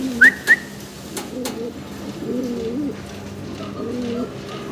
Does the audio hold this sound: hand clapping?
no